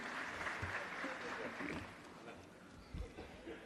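A crowd at a memorial event clapping after a speech, a broad, steady patter of applause heard from a distance with faint voices mixed in, easing slightly partway through before a brief swell.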